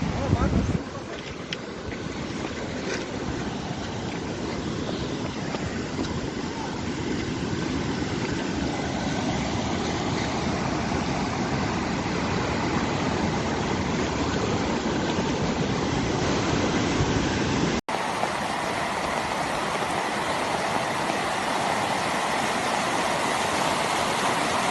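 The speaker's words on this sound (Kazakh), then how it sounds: "Мәне бізде сел, топан су ма неме сел болып жатыр міне." Mudflow flood water rushes near a bridge in Tulkibas, Turkistan region, a loud continuous roar mixed with wind buffeting the microphone, steady throughout with no clear voices.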